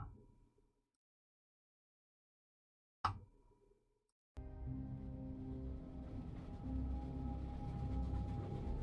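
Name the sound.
train chugging in video game The Room Three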